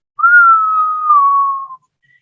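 A single voice imitates a loud whistling noise heard in the distance, one sustained gliding whistle lasting about a second and a half, steady then dipping slightly in pitch before cutting off, with no other sound around it.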